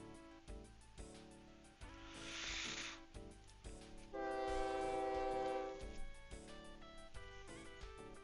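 A train horn blares in long sustained blasts over rhythmic rumbling of a passing train in a transport-building video game, the horn rising loud midway then fading back into the clatter.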